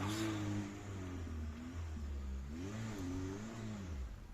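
A Lada Niva drives off with its engine revving, the mid-pitched motor rising and falling in pitch as it pulls away, steady and fairly loud throughout with no talk.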